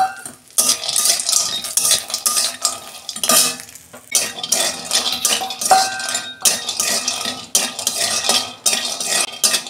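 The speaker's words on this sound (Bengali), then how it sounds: "কড়ায় তেল দিচ্ছি, বড়িটা আমি আগে ভেজে তুলে নেব। এই যে বড়িটা ভেজে নিচ্ছি।" Lentil dumplings (bori) frying in oil in a kadai, with loud, close clattering of a utensil against the pan and bursts of crackling sizzle between short pauses.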